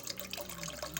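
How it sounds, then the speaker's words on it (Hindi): Water poured into a pot for a mixed vegetable soup, a steady, close trickling splash running through the short moment with no talk over it. "पानी डाल दिया है"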